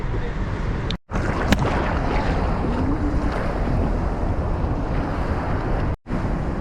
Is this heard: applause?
no